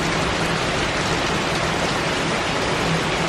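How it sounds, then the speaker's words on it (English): Heavy rain gushing down in monsoon-like intensity, a dense, steady roar of water drumming on a car that stays loud and unbroken throughout, with no talking. "It's literally like gushing rain."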